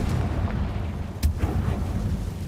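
A single Confringo fire spell blast from the Hogwarts Legacy video game, a short booming burst partway through over a steady low background rumble.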